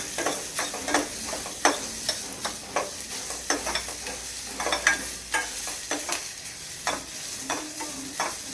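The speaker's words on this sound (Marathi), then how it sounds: "आपण त्याच्यात एक अर्धा चॉप कांदा टाकणार आहोत. कांदा पण एकदम बारीक चॉप करून घेतलेला आहे." Finely chopped onion fries in a pan for cheesy stuffed mushrooms, a close sizzle broken by rhythmic spatula scrapes and stirring strokes, with no voices.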